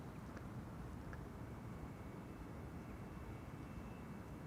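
An aircraft takes off from Runway 24 (Kaagbaan) at Schiphol airport, a faint, distant, steady engine roar and rumble that holds throughout with no voices.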